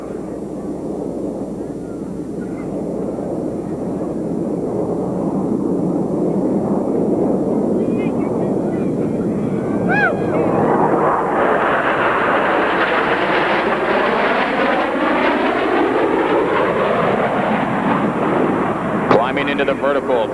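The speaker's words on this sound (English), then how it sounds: "the power is eased as the aircraft round out the backside of this biplane line abreast loop." Blue Angels jets roar through a line-abreast loop at an air show, a loud, sustained engine rush that swells and shifts in pitch as the aircraft pass, with a commentator talking over it.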